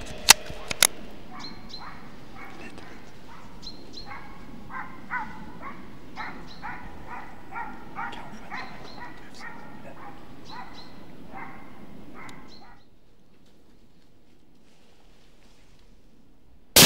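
A hunting dog barks in repeated short, sharp yelps, moderately distant, during a driven fallow deer hunt in southern Sweden; the barking runs steadily for about twelve seconds, then fades to quiet, with a sharp crack at each end.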